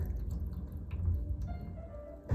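Soft intermittent drips of water from a plant pot's drainage holes patter close by over a low background rumble, ending in a brief louder splash.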